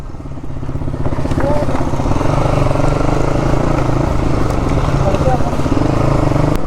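A superbike with a drilled-out exhaust runs close by on a group Sunday ride, its engine a steady loud rumbling drone mixed with rushing wind noise, with voices faintly audible over it.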